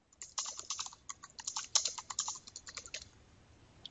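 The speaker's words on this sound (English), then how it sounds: "If I just start typing," Rapid typing on a computer keyboard while writing a LaTeX document, a quick irregular run of crisp close key clicks that slows and trails off near the end.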